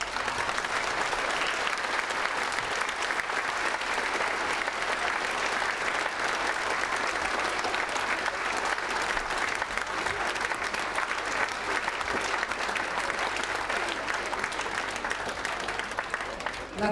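Audience applause fills a room, loud and sustained clapping from a crowd, steady and close, with a voice faintly under it.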